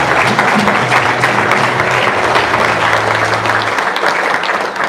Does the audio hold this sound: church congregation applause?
yes